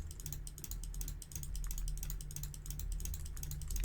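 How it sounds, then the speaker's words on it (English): Computer mouse clicking rapidly and continuously at close range during a Minecraft building session, a dense run of sharp ticks over a low background hum, with no voices. "Sorry if you can hear my mouse clicking."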